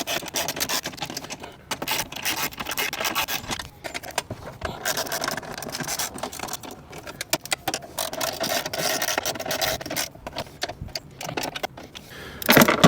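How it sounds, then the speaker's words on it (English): A ratchet tightens battery bolts on a Porsche 991.2 GT3, giving a continuous close run of rapid metallic clicking and scraping with brief pauses, ending in a louder clatter, with no talk. "we can start tightening up the bolts on the bottom and then work our way up"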